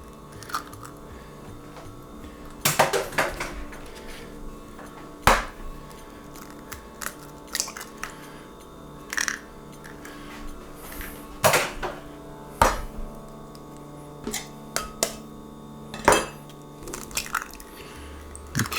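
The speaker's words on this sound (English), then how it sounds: "And we're gonna beat some eggs in this. 3 of them, to be exact." Three eggs cracked into a dish one after another, sharp close cracks and crunchy shell snaps with small wet squishes scattered through an otherwise quiet kitchen.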